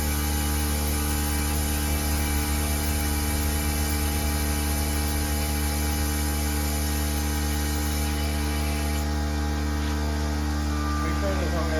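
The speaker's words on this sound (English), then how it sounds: "Continue with the vacuum." A vacuum tool runs on the cooling system of an LS-swapped Porsche, giving a constant, loud droning hum with steady tones that barely change.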